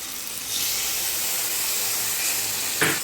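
Water splashes into a hot pan of Bengali potol chingri curry with turmeric and cashew-poppy paste, setting off a steady, close hiss and sizzle that runs on without voices and swells briefly near the end.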